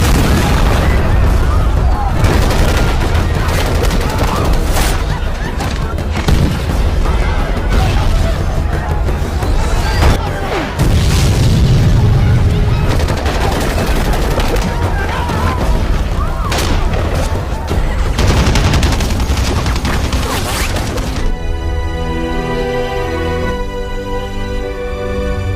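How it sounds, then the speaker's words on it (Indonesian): Heavy booms and rapid gunfire crash continuously in a dense, loud film battle scene in a village, ending with a swell of music. "Di saat itu juga dentuman ledakan mengguncang desa."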